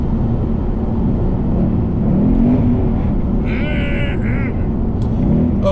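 A 2019 Ford Mustang Bullitt cruising in sixth gear, heard as a steady low engine drone with road rumble inside the cabin and no talking over it.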